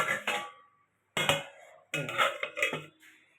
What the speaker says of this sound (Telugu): ఇప్పుడు నేను మూత పెడతాను.